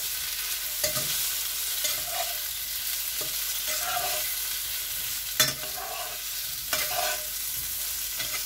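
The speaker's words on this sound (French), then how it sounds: "Et vous les laissez dorer un petit peu. En les remuant délicatement." Vegan gluten-free zucchini sausages brown in a pan with a constant loud hiss of frying, broken by a few soft knocks and scrapes as they are gently stirred, heard alone and close.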